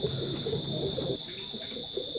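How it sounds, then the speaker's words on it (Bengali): A pair of new adult KTM bloodline Teddy pigeons coos close by, soft repeated throaty calls over a steady high-pitched background tone, with no talking. "স্ক্রিনে এখন যে কবুতর জোড়া দেখতে পাচ্ছেন, কেটিএম ব্লাড লাইনের জোড়া নিউ অ্যাডাল্ট কবুতর"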